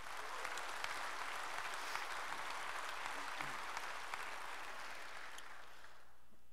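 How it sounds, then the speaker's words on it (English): An audience at a men's worship night applauds the crew who grilled the steaks, a quiet, even patter of many hands that holds steady before fading out near the end. "So just a special applause to them"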